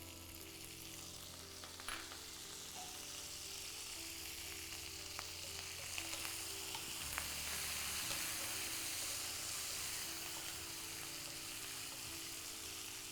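Curry leaves go into hot oil for a chicken dish, giving a soft, steady sizzle and hiss that runs throughout with faint crackles, fairly quiet and with no speech.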